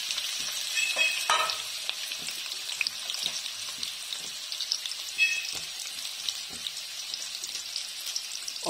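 Onion frying in a pan with bay leaves for channa qeema, a steady close sizzle with occasional crackles and light stirring scrapes throughout.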